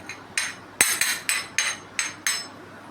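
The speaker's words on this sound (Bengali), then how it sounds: "এটা শিলে গুঁড়ো করে নিচ্ছি।" Fried spices are pounded on a stone grinding slab: seven sharp, evenly spaced knocks ring out close by, each a hard stone-on-stone strike with a short decay, and no voices are heard.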